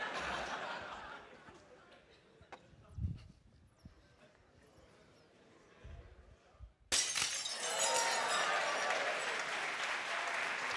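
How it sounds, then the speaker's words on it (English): Glass shatters during a physics lecture demonstration: a sharp crash rings out, followed by loud audience applause and cheering filling the room. "Students love it when the glass breaks."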